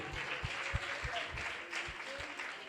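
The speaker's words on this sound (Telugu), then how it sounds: "అందరం చప్పట్లు కొడతామండి" Audience applause following a youth Christmas skit, a steady wash of clapping from a crowd with some voices mixed in, moderately loud and continuous throughout.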